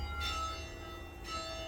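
Church bells ring softly in the distance, two swells of sustained tolling fading in and out over a quiet background.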